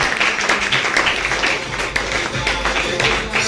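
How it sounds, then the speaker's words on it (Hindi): Audience applause at a business motivational event, a steady dense wash of clapping lasting a few seconds, fairly loud and continuous, with faint voices mixed in. "एक बार जबरदस्त तालियां"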